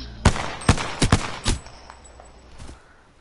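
Video game gunfire rings out as several sharp, loud shots in quick succession, a rapid cluster followed by one more shot after a short pause, with no talk over them.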